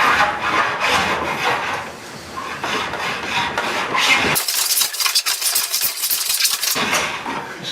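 An old Union No. 5 hand plane shaves thin curls across a wooden door board near a knot, heard as a close, continuous rasping scrape in repeated strokes that grows harsher and brighter partway through.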